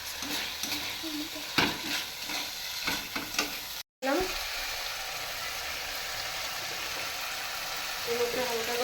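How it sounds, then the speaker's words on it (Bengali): Spoon stirring ginger paste, chilli powder and spices in a pan over heat, with soft scraping and a low sizzle, a brief dropout partway, and quiet kitchen background throughout. "এবার সেটা একসাথে মিশিয়ে এর সাথে দিয়ে দেবো। একটু হালকা করে মিশিয়ে নেব।"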